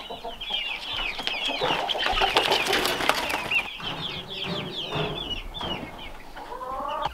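Chickens cluck and chatter steadily throughout, several birds close by, with a few rising squawks and a faint background hum.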